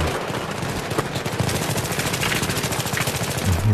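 Rapid automatic gunfire from a Battlefield 3 multiplayer match on the Donya Fortress map, a dense continuous rattle of shots that runs loud and steady throughout with no talk over it.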